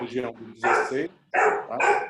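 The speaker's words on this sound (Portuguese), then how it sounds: "você não está escutando os cachorros latindo aí." A dog barks in short bursts close by while someone talks over it.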